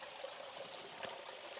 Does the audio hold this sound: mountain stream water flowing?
yes